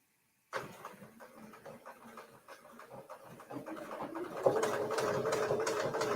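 A sewing machine stitches fabric around a template, starting from silence into a close, steady rapid chatter that grows louder and denser toward the end.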